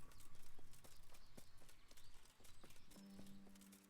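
Horse hooves clip-clopping in a video game, a quick, steady rhythm of close hoofbeats that holds throughout, with faint voices underneath.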